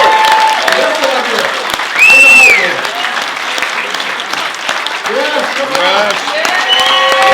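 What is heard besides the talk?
applause for Michelle Coehlo at campaign launch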